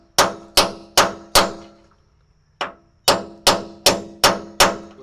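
A hammer rings loudly on a steel chisel against the welds of a nut on a Nissan Xterra, four evenly spaced metallic clangs, a pause, one lighter tap, then five more sharp strikes in steady rhythm.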